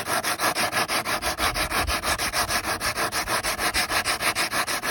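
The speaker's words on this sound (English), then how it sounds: "Sanding that back edge off until that becomes flush." Rapid, rhythmic rasping strokes of hand sanding a fiberglass edge with 100-grit paper on a flat block repeat steadily back and forth, close and evenly paced, with no talking.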